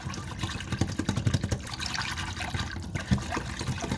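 Half a cup of hot water is poured into a beef and broccoli stir-fry sauce, giving a steady close trickle for a few seconds.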